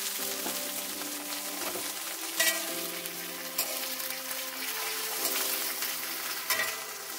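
Partly boiled potatoes and boiled vegetables fry in oil in a kadai for vegetarian pasta, a soft continuous sizzle broken by a few clinks and scrapes of stirring.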